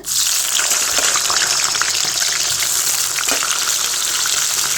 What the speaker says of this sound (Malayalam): ഒന്ന് ഫ്രൈ ചെയ്തെടുക്കണം